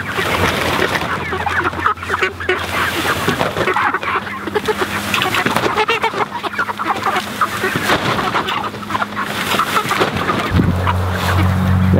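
Barred Rock meat chickens forage on open pasture, a dense, continuous chorus of clucking and rustling from a flock close by, steady throughout with no talking.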